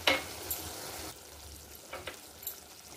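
Gongura meal maker curry stirred in a pan on the stove, giving a soft continuous sizzle with a few brief scraping strokes, fairly quiet.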